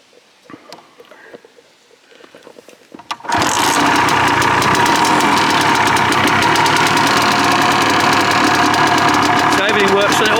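A 1980 Can-Am Bombardier 250 Mk2 military motorcycle engine, choked, catches and runs loud and steady, preceded by a few seconds of quiet handling noises and faint voice.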